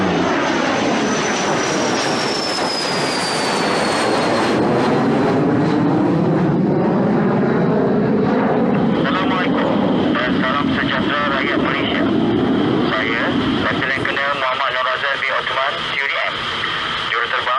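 Royal Malaysian Air Force Su-30MKM jets make a flypast at a National Day celebration, a loud, sustained jet roar with a sweeping whine that swells and fades over about seventeen seconds, with broadcast commentary speaking over it.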